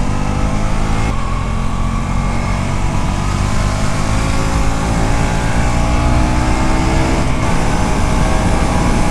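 A KTM RC 200 GP Edition motorcycle's 200cc single engine drones loud and steady while riding, a continuous close roar with wind rush and no voices.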